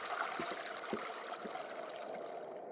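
A brook flows steadily as a radio drama sound effect, a dense, continuous rush and trickle of water with a few faint low knocks underneath.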